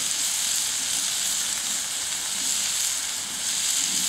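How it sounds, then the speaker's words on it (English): Bacon sizzles steadily over a campfire during bushcraft cooking: a dense, continuous crackling hiss, close and fairly loud, with no voices. "Look at that bacon cook."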